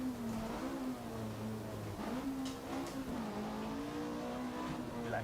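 Rally car engine in the Richard Burns Rally game on a long wet stage, a steady loud drone with pitch rising and dipping through gear changes and corners, no talk.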